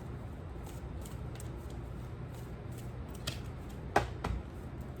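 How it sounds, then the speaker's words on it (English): Tarot cards are shuffled by hand in short, soft riffling bursts, with a sharper flutter near the end, close and fairly quiet, no talking. "Shuffle a little bit."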